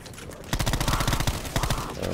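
Automatic gunfire from the video game Black Ops 4 Zombies, on the Blood of the Dead map, comes as two loud rapid bursts of shots close up, with faint game sounds between them.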